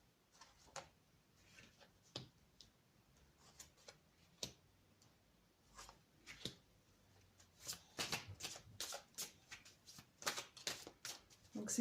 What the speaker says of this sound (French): Et je vais tout de suite tirer 3 cartes pour cette personne-là.